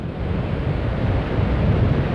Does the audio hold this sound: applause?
no